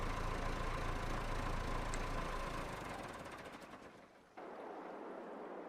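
A tractor engine idles in the Farming Simulator 22 video game, a steady low rumble under broadband noise that fades down before a quieter hum resumes after a sudden cut.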